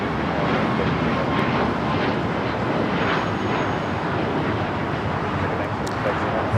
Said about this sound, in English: 777-300ER coming up from Taipei